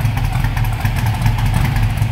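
A 1968 Chevrolet Camaro SS tribute idles close by, heard from behind the car, as a steady, deep, slightly lumpy rumble with no voices over it.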